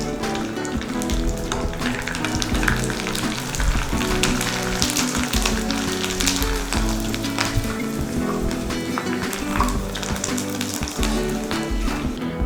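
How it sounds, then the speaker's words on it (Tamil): Sun-dried vathal fries in hot oil, giving a steady, dense sizzle and crackle that runs loud and unbroken from start to end, close by, with no voices. "வத்தல் போட்டு பொரித்து எடுத்துக்கலாம்."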